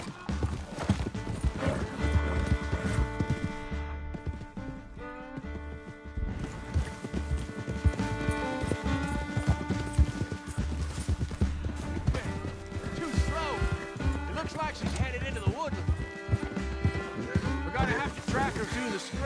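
A horse in a video game trotting and galloping with rapid, rhythmic clip-clop hoofbeats and occasional neighs, layered under game music and a character's speech throughout.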